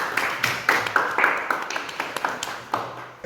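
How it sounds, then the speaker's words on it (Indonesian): Classroom applause for a group 1 representative, a short burst of scattered hand claps from a small group, fairly close and irregular, fading after a few seconds. "Berikan tepuk tangan untuk perwakilan kelompok 1."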